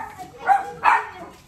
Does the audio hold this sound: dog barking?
yes